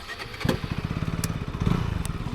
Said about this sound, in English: So this is the new KTM 160, most powerful